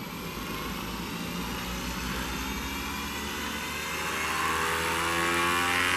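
A small high-speed gyro spins inside a Losi Promoto-MX RC dirt bike, giving a steady, whining mechanical hum with sustained tonal bands that swell slightly louder toward the end, with no voices.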